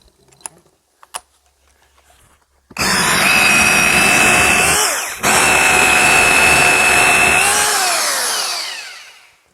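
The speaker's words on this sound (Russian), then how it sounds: "Вот таким макаром будем сверлить все отверстия." A power drill bores into brick for a chimney build: a few faint knocks come first, then a loud, close, high whine with a grinding edge that stops briefly, resumes and winds down.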